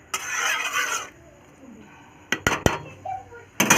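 A metal lid clanks down onto a cooking pot of prawn malai curry in a home kitchen, a few sharp clinks and knocks near the end after a stretch of quieter kitchen noise.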